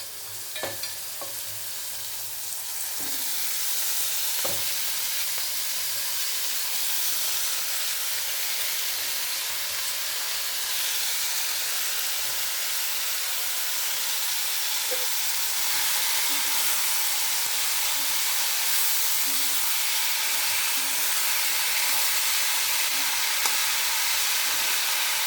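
Eggplant pieces frying in oil in a pan, a steady broad sizzle and hiss that swells after a few seconds and holds for the whole stretch, with occasional soft clicks of stirring.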